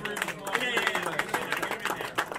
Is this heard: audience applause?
yes